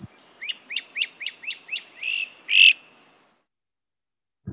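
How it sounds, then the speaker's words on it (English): A songbird gives a string of repeated chirping notes, fairly loud and close, ending in a stronger final call, against a soft steady insect-like hum; a sustained high tone runs beneath the calls. "The flycatcher is the one going breep, breep, breep."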